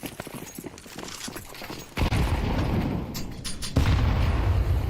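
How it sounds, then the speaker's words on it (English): Grenades explode in a video game battle: heavy booms and dense rumbling bursts, with the loudest around the middle and a second big blast near the end, under busy gunfire-like crackle. "a lot of nades actually"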